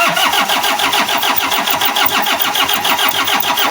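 A car's starter cranks the engine in a loud, rapid rhythmic churning that runs continuously up close, with no talk over it.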